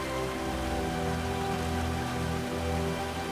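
Heavy torrential spring rain pours in a steady, dense wash with no pauses, holding at an even loudness throughout, with some sustained tonal sound layered underneath.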